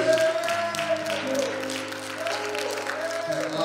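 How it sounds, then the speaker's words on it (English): Congregation clapping hands in praise during a church worship service, steady crowd clapping mixed with sustained organ or keyboard tones and voices, moderately loud throughout. "clap your hands and give God the praise"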